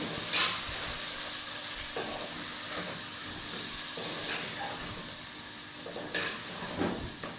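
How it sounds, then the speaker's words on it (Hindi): Coriander powder, salt, red chili powder and turmeric powder roast in a pan for shab daig, giving a steady close sizzle with occasional scraping stirs. "सारे मसाले ऐड करके इसको थोड़ा सा हमने भूनना है।"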